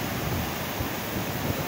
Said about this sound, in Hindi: ये पुल के नीचे से पानी जो है गुजर रहा है